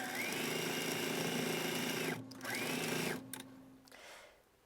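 A sewing machine stitches along the fabric edge of a sleep bonnet in close, rapid runs, stopping briefly, starting again, then winding down into quiet.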